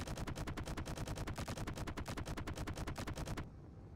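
Charged-up guns on a ship in a building game fire a rapid, loud, evenly spaced burst of shots lasting over three seconds, then cut off abruptly.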